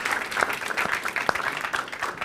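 Applause following a presentation at a business and digital innovation semi-final stage event, a steady wash of clapping from a crowd with some louder individual claps standing out, continuous and moderately loud.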